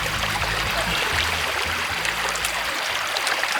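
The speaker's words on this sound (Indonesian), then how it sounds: "Nah, kita nemu sungai." A river stream in hilly outdoor terrain, water rushing and trickling steadily close by as a broad, continuous wash with low rumbling underneath, no voices.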